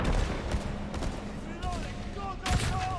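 Gunfire in 007 First Light sounds as sharp shots at intervals over a busy, rumbling game-combat background, with a heavier burst near the end and shouted voices mixed in.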